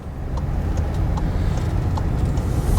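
A 2019 Volkswagen Jetta S with its 1.4-liter engine accelerating, heard from inside the car as a steady low engine hum and road rumble, with a few faint ticks above it and no talk.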